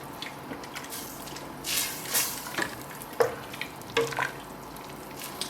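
Traditional pork borscht with dill cooks in a pot, giving a soft, steady bubbling sizzle. A few louder stirring and clinking noises break through near the middle.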